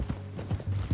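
Horse hooves clip-clop in Red Dead Redemption 2, a quick run of four soft, muffled hoof strikes in about a second, fairly faint.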